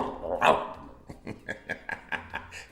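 A dog barks in a quick series of sharp, nearby barks, starting with one loud bark and followed by a rhythmic run of shorter ones.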